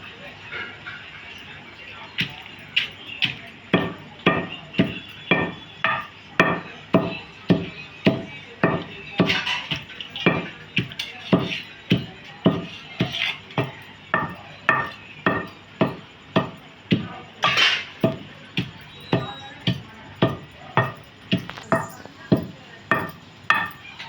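Salt pounded together with dried red chillies in a kitchen, a long run of rhythmic thuds from a pestle, steady and fairly close, repeating roughly every second with a faint background hum.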